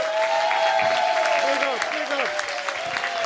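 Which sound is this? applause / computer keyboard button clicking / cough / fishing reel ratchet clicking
applause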